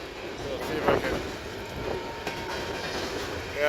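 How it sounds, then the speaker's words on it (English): The tail end of a train rolls past near a river, a steady rumble of railcars with faint clickety-clack and a few thumps, while someone talks over it. "as you can clearly hear and see, all right, the train is coming to an end here"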